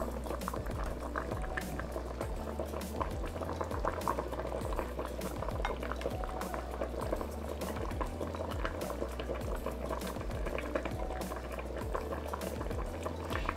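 A pot of red pork pozole bubbles on medium-high heat, a dense continuous rolling boil with constant popping bubbles and a steady low rumble, close and even throughout, no voices.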